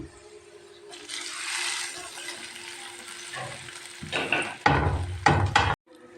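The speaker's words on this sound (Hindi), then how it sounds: "अब मैं इसको हिलाती हूँ, इस तरह मिक्स करती हूँ" Spoon stirring a sizzling tadka of red chilli and a pinch of cumin in a kadhai, with scraping and clinking clatter that grows louder and busier toward the end, close up.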